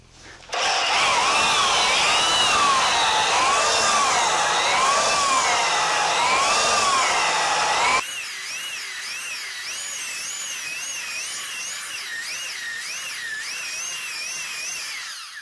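A belt sander with a 120 grit belt grinds across maple and MDF, a loud steady whine with wavering pitch that runs without pause, then shifts to a slightly lighter, continued grinding tone midway.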